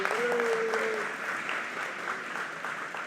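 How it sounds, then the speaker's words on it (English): Applause from an audience at an evening community conversation in a recreation center, a steady round of clapping filling the room with a faint tonal sound briefly over it early on. "please give a round of applause to City News for moderating our conversation"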